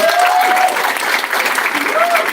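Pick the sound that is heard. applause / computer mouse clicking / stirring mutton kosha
applause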